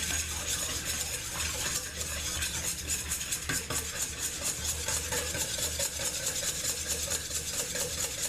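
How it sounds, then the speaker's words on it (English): Eggs are whisked in a bowl with a fast, continuous clatter of the utensil against the sides, steady and close for several seconds, with no talking. "Get those good and whisked together"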